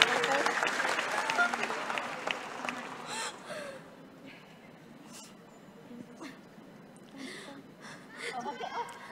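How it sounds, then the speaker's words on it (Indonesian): Audience clapping for a woman at a public hearing on a domestic workers' protection bill, starting loud and dense then thinning into scattered claps with brief murmurs, and a small renewed burst at the end. "ayo kita kasih tepuk tangan dulu untuk Dinda."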